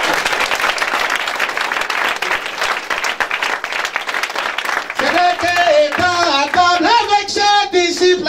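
A church congregation applauds to acclaim Jesus Christ, a dense, steady wash of clapping from a large crowd that continues as a voice begins speaking over it partway through.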